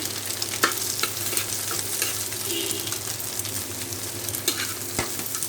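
Chopped onion hits hot oil in a pan for an egg and pumpkin bhaji, giving a steady broadband sizzle and fry with occasional sharper crackles and stirring clicks, close and continuous with no talking.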